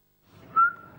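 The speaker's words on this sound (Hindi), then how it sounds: "फूंक निकल रही है, सीटियां निकल रही हैं" A single short whistled tone rises out of quiet and holds steady near the end, faint and close, with no talking.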